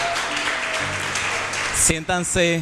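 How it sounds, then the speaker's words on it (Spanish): A crowd claps loudly and steadily for a couple of seconds, then a single voice begins speaking as the applause fades. "me encantaría que todos le demos un gran aplauso a quienes nos visitan por primera vez"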